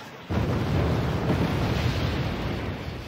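A bombing run in the Wargame strategy game lands as a sudden heavy explosive roar that starts abruptly and rumbles on loudly and steadily to the end.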